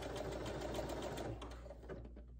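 A sewing machine stitching along a curved back neckline, a close, steady whirring run of rapid needle strokes that slows and stops near the end.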